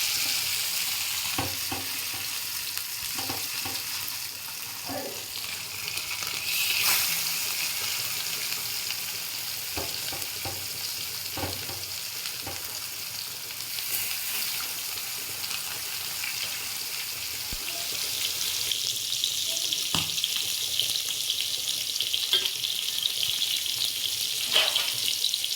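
Soaked fish fries in hot oil in a home kitchen, a steady close sizzle and crackle running throughout, with occasional taps and stirring knocks from a utensil.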